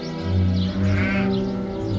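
Manchega sheep bleat loudly and close by in a drawn-out, wavering call that dips briefly and then carries on.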